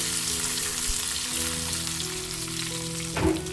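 Chili peppers fry in hot oil over a medium flame, giving a steady close sizzle that runs the whole time with one brief louder crackle near the end.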